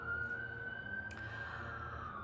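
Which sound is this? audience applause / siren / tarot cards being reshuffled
siren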